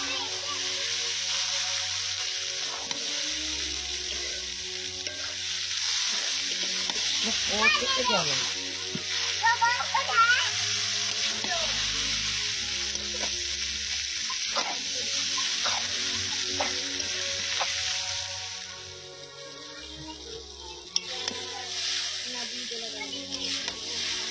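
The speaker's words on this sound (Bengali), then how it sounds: "দিয়ে ভালোভাবে টমেটো পেঁয়াজ একসাথে ভেজে নেব" Tomato and onion frying together with spices in a village kitchen, a steady sizzle with occasional stirring under a voice talking throughout, with some background sounds.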